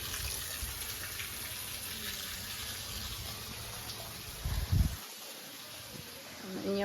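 Water overflows from a water tank, pouring and splashing continuously, a broad hiss close by, with a brief louder gurgle near the end.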